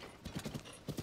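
Horse hooves clip-clopping in the video game The Legend of Zelda: Tears of the Kingdom, a steady run of close, evenly paced hoof thuds over a soft background bed.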